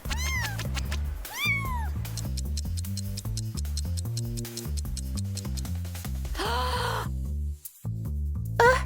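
A cat meows a few times over steady, loud rhythmic music, the cries rising and falling in pitch, with one longer meow later on.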